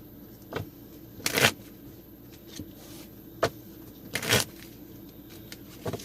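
Two crisp riffling bursts of cards being shuffled, with a few softer taps and clicks between them in a quiet room.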